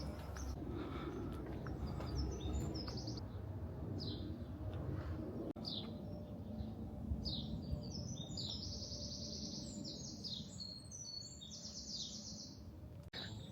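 Several birds sing and chirp during a morning walk outdoors, with bright repeated calls layered over steady low background rumble, fairly close and moderately loud with no talking.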